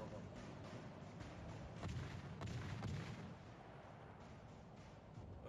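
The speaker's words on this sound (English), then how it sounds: "It's his auto cannons firing right now" Auto cannons on a warship in World of Warships fire in a steady, dense stream of rapid booms, loudest around the middle, forming a continuous battle rumble with faint talk underneath.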